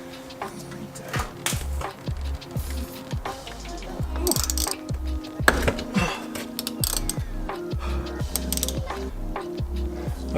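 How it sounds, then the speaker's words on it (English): Ratchet with a 22mm socket working loose a tight steering wheel nut on a BMW E30, giving repeated rapid clicking bursts up close amid metallic handling noises, without any speech. "You got your 22mm socket. Get it in there. You gotta loosen it."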